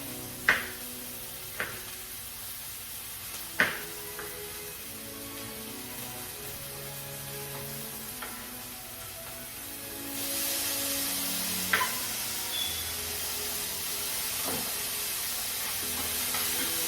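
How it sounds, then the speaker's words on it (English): Steady sizzling of plantain and chopped vegetables frying in a pan, with a few sharp clicks and utensil taps scattered throughout; the hiss grows louder partway through. "So keep frying until it's nice and soft"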